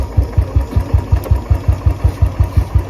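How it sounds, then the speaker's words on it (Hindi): A Royal Enfield BS3/BS4 motorcycle set up for E20 fuel idles at a slow, steady beat up close, each low thump carrying a light ticking from the auto decompressor. "ये ऑटो डिकम्प्रेसर का साउंड था, आइडल ज़्यादा स्लो था, इसकी वजह से वो टिक टिक कर रहा था।"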